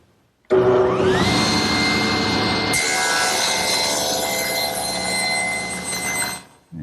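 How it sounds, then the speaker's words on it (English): A table saw fitted with a thin kerf blade rips a narrow wood strip: a sharp start-up whine rises into a loud, sustained cutting buzz that shifts pitch partway through, then cuts off abruptly near the end. "So I've set up my table saw with what's known as a thin kerf saw blade."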